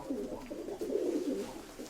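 Pigeons cooing softly and repeatedly in a dovecote loft, a close, continuous burble of low rolling calls with no talking.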